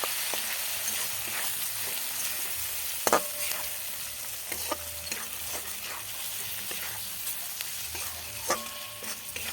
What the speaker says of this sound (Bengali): ধনে, জিরে, লঙ্কা, ভালো করে মেশাবো।